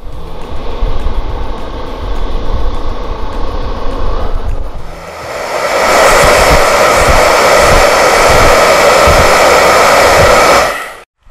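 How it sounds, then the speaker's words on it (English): Handheld blow dryer running on a farm, a steady loud broadband whoosh that shifts partway through to a higher, stronger airflow setting before cutting off at the end. "Oh, look at this. It's a blow dryer."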